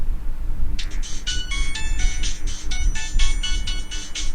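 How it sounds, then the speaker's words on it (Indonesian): Incoming phone call ringtone in the Pikabuu video game, a bright repeating electronic melody of short pulsed notes that starts after a brief pause and rings clearly over low background hum. "Ada telepon masuk."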